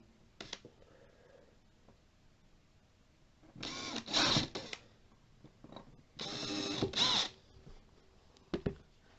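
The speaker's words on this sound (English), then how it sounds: "Okay, just going to drill that through." A power drill bores pilot holes into a hallway wall in two close, loud whirring bursts of about a second each, with scattered clicks and handling noises between them.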